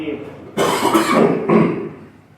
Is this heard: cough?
yes